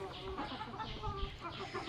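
Four hens cluck in short, overlapping bursts, fairly close, with a steady background hum and no talking.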